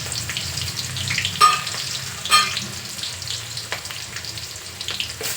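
Onion and green chilli frying in oil with mustard seeds and cumin for a tempering, a steady close sizzle with two sharper crackling bursts and light stirring, no voices.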